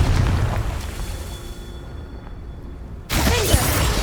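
A Confringo blasting spell explodes in Hogwarts Legacy with a heavy boom that slowly fades, then a second sharp blast bursts in and rumbles on loudly.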